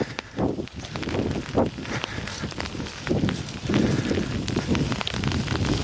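Gusty wind buffeting the microphone, a constant rumbling roar that swells and dips over several seconds, with faint scuffing sounds underneath.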